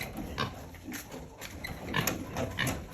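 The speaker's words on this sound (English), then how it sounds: "A pregnant pig." Pigs on a pig farm give short, repeated grunts and snorts at an irregular pace, moderately close and fairly quiet, with no talk in the clip.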